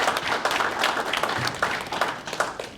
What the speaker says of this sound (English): let's stop for a round of applause there.